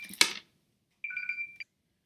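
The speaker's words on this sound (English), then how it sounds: "My phone has to ring." A mobile phone rings indoors with one short electronic tone burst after a brief clatter, fairly faint and close, then silence.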